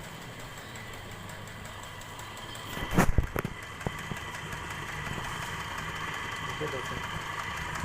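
An electric water pump motor starts with a brief clatter, then settles into a steady droning hum, with someone talking briefly over it at the start.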